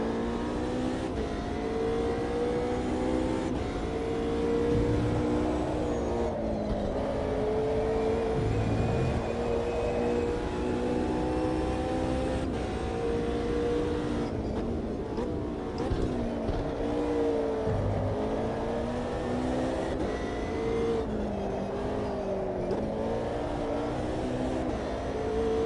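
Race car engine in the Automobilista 2 sim, held under steady throttle through corners with rising and falling harmonic tones, continuous and close for the whole stretch with no talk.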